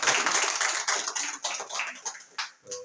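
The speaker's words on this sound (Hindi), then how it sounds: "प्रभु की महिमा के लिए एक बार जोरदार ताली बजा के" A church congregation claps loudly together in praise, a dense, close patter of many hands that gradually thins and breaks into a few scattered final claps.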